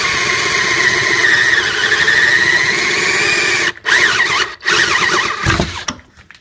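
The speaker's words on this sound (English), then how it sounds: "I actually drilled through it" A Harbor Freight Drill Master 18-volt cordless drill bores through a pine board, its loud whining motor running steadily for several seconds with brief pauses before winding down.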